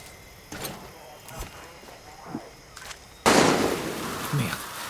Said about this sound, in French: qu'est-ce qui tire?